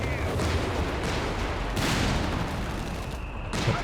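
Walking Stuka rocket artillery fires in Company of Heroes 3 amid a dense, rumbling battlefield din, with a sharper blast standing out midway over continuous distant gunfire.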